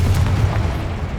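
A Confringo blast spell explodes in the Hogwarts Legacy video game, a loud, deep rumbling boom that sustains heavy low-end energy through the whole moment, with no voices.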